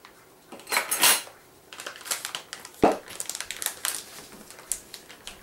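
Apple pie filling spiced with nutmeg is stirred in a bowl, with irregular clinks and scrapes of a utensil against the dish and wet crunching of apple pieces, close and fairly quiet.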